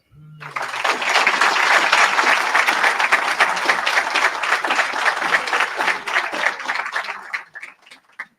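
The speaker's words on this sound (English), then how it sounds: "another big, gigantic round of applause" Audience at a July graduation ceremony breaking into loud, sustained applause from many hands that swells quickly, holds for several seconds, then thins out into scattered claps and fades.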